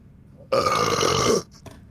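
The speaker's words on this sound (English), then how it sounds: "make a compilation of all the beginning burps" A loud, long burp, close and alone, lasting almost a second, then a brief faint sound after it.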